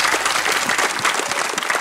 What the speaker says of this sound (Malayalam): ശ്യാമളിയ നല്ലൊരു കൈയടി.